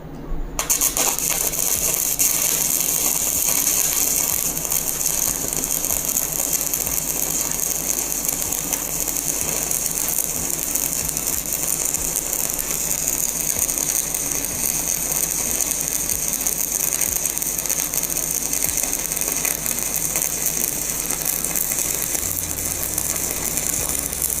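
Arc welding with an 8 number electrode on a Shakti 400 amp all-in-one welding machine, a steady close crackling and hissing arc that holds without pause throughout, with no voices.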